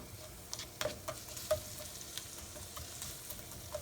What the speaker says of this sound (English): you can hear it starting to sizzle.